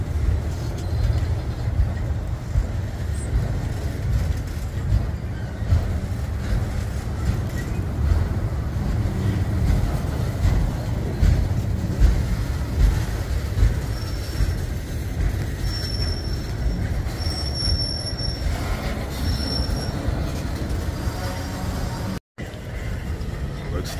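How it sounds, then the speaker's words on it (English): A westbound freight manifest meets an eastbound double-stack train on the Union Pacific, a continuous heavy rumble of rolling cars with faint wheel squeals late on, steady and close. "Westbound manifest meets eastbound stack."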